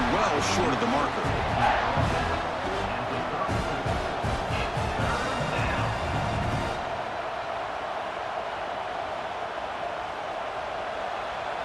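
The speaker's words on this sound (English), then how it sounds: "Listen to the crowd energy here in the early going." Stadium crowd roar in College Football 26 during LSU vs Clemson, a dense, steady wall of cheering that swells early and stays loud throughout, with broadband noise and a slight drop after the midpoint.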